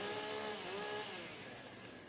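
STIHL chainsaws warming up at a TIMBERSPORTS competition, a steady high engine whine with overlapping tones, fairly faint and continuous, with no speech.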